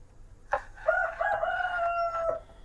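A rooster crows once in a long drawn-out call, faint and somewhat distant, heard from a home kitchen with a soft knock at its start.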